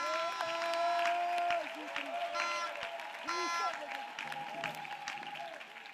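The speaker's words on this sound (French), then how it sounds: "Clap louder." Church congregation clapping during a French-language prayer service, a sustained wash of applause and cheering, with voices calling and singing over it and loudness dipping and rising.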